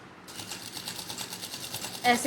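A sewing machine runs fast and evenly while stitching a semi-Patiala salwar, a rapid rhythmic clatter at close range, ending in a short thump.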